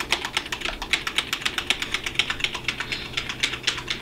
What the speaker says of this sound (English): Start hammering delete and F2 at the same time.